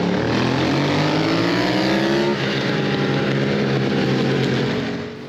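A BMW F 900 R Cup race bike at Cadwell Park roars loudly and steadily, its engine pitch climbing, dropping briefly, then climbing again as it drives onto the start-finish straight before fading at the end.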